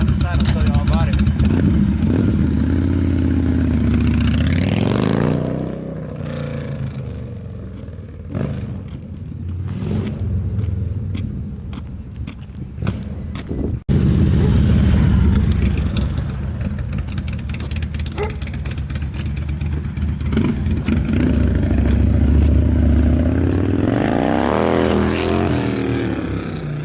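Engine of a 2004 Harley Davidson Dyna Super Glide motorcycle running and revving with a loud, rough throb, swelling and easing over the length, with someone talking over it.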